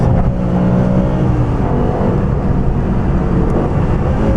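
Wiesman MF-5 Roadster with a BMW S85 V10 and SMG gearbox driving in Monte Carlo, Monaco; a steady, loud engine drone holds close and continuous with no talk over it.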